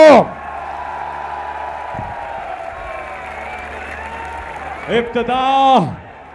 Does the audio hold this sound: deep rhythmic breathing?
no